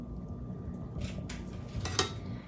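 Mashed potatoes are spooned onto a pot pie filling in a pan, with soft scraping and a few clinks of a metal spoon against the pan, quiet and close.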